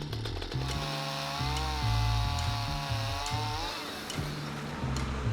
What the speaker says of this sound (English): But Mike saved the day with his chainsaw